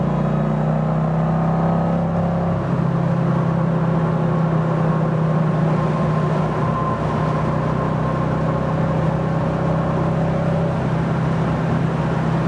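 A powerful supercharged 1967 Ford Mustang restomod engine roars steadily as it accelerates, supercharger opening up, its pitch climbing in a long, continuous surge heard from inside or close to the car.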